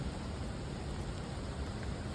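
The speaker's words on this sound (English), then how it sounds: "I mean, really raining." Rain falls outdoors in a steady, dense broadband hiss that holds constant and fairly loud throughout, with no voices or other distinct sounds.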